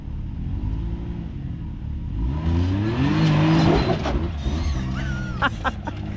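Off-road vehicle crawling over a rocky trail ledge at Sand Hollow State Park, engine rumbling and revving steadily up close, with brief knocks and scrapes from the rocks and occasional voices beneath.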